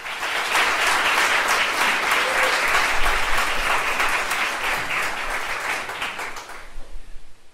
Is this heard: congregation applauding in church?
yes